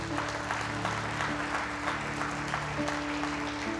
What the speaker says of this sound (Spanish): Dale fuerte el aplauso al Señor.